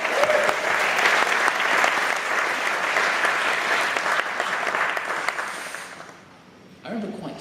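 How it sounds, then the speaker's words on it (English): Wedding guests applaud loudly and steadily in a dense wash of clapping at a best man speech, fading out near the end before a brief voice or cheer breaks in. "Can we get a round of applause for Alice?"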